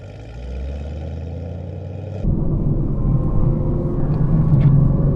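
A Chevrolet Camaro ZL1 in track mode on a race track, its engine first droning steadily, then abruptly surging into a louder, deeper rumbling roar as it accelerates, heard from inside the car.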